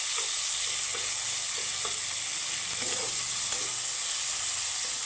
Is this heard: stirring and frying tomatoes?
yes